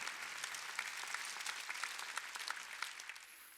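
A church congregation claps together during a Korean Wednesday worship service, a dense, steady patter of many hands that carries on without a break and sits fairly faint and far off.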